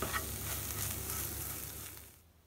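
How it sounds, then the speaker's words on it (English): Cumin, oregano and onion fry in a pan for a hummus spice mix, a soft steady sizzle close by that fades toward the end, with no voices. "we're just going to leave that for a minute just to fry"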